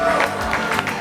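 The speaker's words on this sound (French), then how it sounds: "On va l'applaudir très fort" Audience applause on a television show, a brief burst of clapping mixed with crowd noise and a voice speaking over it, fairly loud and close.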